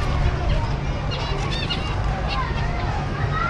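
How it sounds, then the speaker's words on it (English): Geese and other fowl honk and call across an outdoor park, loud and continuous over a busy background of crowd babble and people talking nearby. "I don't know if the GoPro can actually capture these birds."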